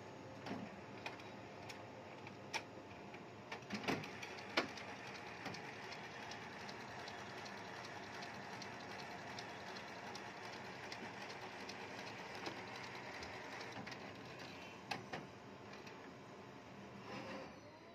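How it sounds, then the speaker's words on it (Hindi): A Canon imagePROGRAF TM-5200 large format printer prints a nozzle check with a steady mechanical whir and rattle. Scattered clicks and clacks from the moving print head come through, quiet and continuous. "देखिए हमारा जो प्रिंटर है वो नोजल चेक निकाल रहा है"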